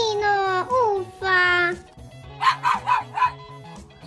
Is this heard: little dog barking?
yes